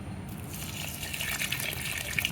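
Water pours in a short, steady gush, splashing and trickling into a container of gamebird feed for a couple of seconds to make wet feed.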